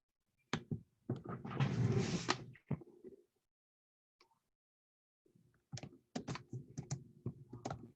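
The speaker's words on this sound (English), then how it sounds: "you need to practice your typing because you're taking really long to type" Close computer keyboard typing during an online coding lesson: a dense burst of rapid key clicks, a quiet pause with a stray tap, then another run of uneven keystrokes.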